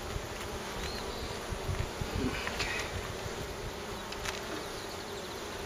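Honey bees buzzing around an open hive, a dense, continuous hum close by with occasional louder passes, over faint wind noise and no talk.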